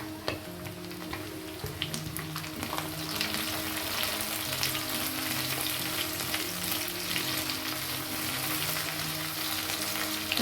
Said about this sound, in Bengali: সবজিগুলোকে খুব ভালোভাবে ভেজে নিব। সবজিগুলোকে মাঝে মাঝে একটু নেড়ে দিতে হবে